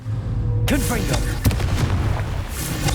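A Confringo fire spell from Hogwarts Legacy goes off as a single sharp booming blast mid-clip, set against steady game ambience and a continuous low rumble, with a voice talking.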